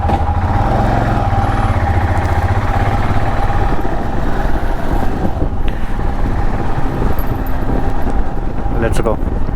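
A fully packed motorcycle at the start of a solo road trip in the Konkan region, its engine running steadily and fairly loud throughout, with a brief clatter near the end.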